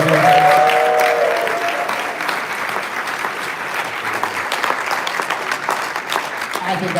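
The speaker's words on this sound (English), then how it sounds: "Let's give one big last round of applause for him." An audience at a live show breaks into a loud, sustained round of applause that fades slightly but keeps going throughout, a dense wash of many hands with a faint voice at the very start.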